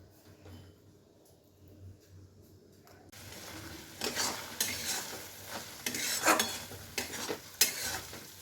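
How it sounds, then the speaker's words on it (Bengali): Pointed gourd (potol) frying in a kadai, stirred repeatedly, quiet at first, then a louder sizzle with spatula scraping and clinks against the pan through the second half. "এইভাবে বারবার নাড়তে হবে কিন্তু, না হলে কিন্তু কড়ার গায়ে লেগে যাবে"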